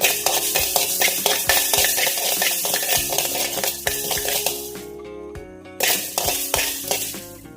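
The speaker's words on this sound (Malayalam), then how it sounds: "നമ്മൾ മീൻകറി ഉണ്ടാക്കുന്നതിനായിട്ട് ഒരു പാൻ ചൂടാക്കിയിട്ട് അതിനകത്ത് കുറച്ച് ഉലുവായിട്ട് മൂപ്പിച്ചെടുക്കുവാണേ" Fenugreek seeds roasting and being stirred in a hot pan for a fish curry, with dense crackling sizzle broken by sharp clinks and scrapes of a spoon against the pan, close and steady, without any talk.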